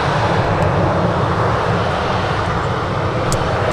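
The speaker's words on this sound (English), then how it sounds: "Erlingus in the rugby team livery about to touch down from Dublin." An Aer Lingus airliner in rugby team livery descends to touch down at Manchester Airport on arrival from Dublin, its engines giving a steady, loud, broad roar that holds without a break.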